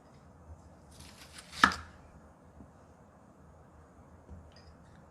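A knife slices an onion into strips on a cutting board while cooking spicy stir-fried baby squid. There is one crisp, quiet cut near the middle, with soft kitchen background around it.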